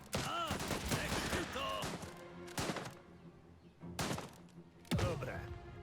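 Explosions and gunfire from a grenade attack in the historical survival strategy game Last Train Home, with several sharp booming blasts and bursts of shots spread across the moment, loud and close against a busy battle backdrop.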